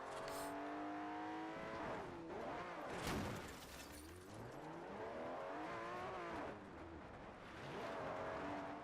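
A car in the Forza Horizon video game cuts across someone's lawn, its engine revving and sweeping up and down in pitch with steady, loud rumbling and brief surges throughout, no talking.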